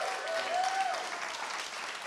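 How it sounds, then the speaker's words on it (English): An audience at an entrepreneur talk event in Austin gives a round of applause, dense sustained clapping from a crowd filling the room, with a faint tonal whistle briefly riding over it. "What a round of applause."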